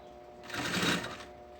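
A sewing machine stitches a seam on a fabric backpack panel in one short, even burst of whirring that rises and then stops, fairly quiet and close.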